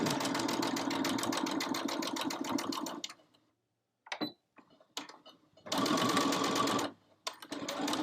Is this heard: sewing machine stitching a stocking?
yes